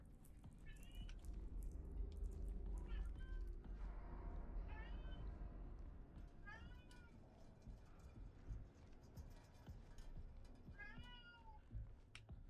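A pet cat named Gila meows repeatedly in a series of short, clear calls, rising and falling, heard over a steady low hum of game music and ambience.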